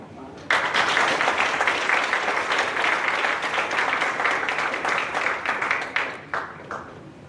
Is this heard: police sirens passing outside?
no